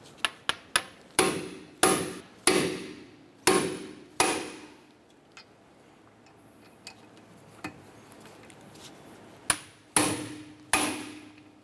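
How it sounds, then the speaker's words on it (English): Impact driver loosening screws on a 2008-2012 Honda Accord front wheel hub, several sharp rattling bursts in quick succession, then a quiet stretch with faint clinks before a few more loud hits close by. "We're going to use our impact driver. I'm going to go ahead and loosen this here."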